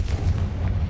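A Confringo blasting curse explodes in Hogwarts Legacy, a deep booming low rumble that fills the whole second with a sharp burst near the end.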